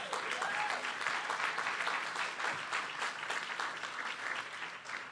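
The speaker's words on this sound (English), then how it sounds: "Y'all clap your hands for Alderman Jeanette Taylor." Crowd at a community partnership breakfast claps for an alderman, a lively rolling applause of many hands at moderate distance, fairly faint and sustained throughout.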